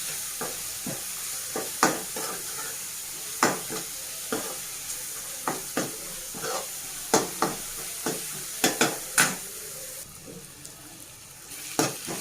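Spices fry in a pan for pepper rasam under a steady soft sizzle, punctuated by repeated sharp scrapes and taps of a spoon stirring against the metal.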